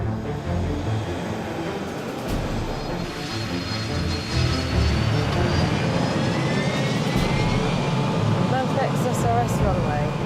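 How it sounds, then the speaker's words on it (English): Easyjet airliner's jet engines roar steadily as the aircraft rolls for takeoff, a loud continuous broadband rumble that swells slightly midway, with voices talking over it. "They're finally clear for takeoff and heading for Gatwick."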